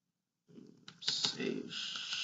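Someone types a web address on a computer keyboard in a quiet room: a short run of crisp, close key clicks that starts after a brief silence, with faint speech in the background.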